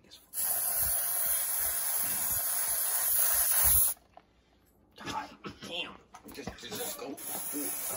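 Aerosol spray can releasing a steady, loud hiss for about three and a half seconds, then cutting off, followed by people talking and background noise nearby.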